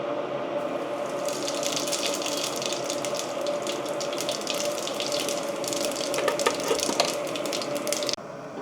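Water pours steadily from a tap onto soaked rice in a kitchen, a continuous close gushing splash that grows briefly stronger before stopping abruptly.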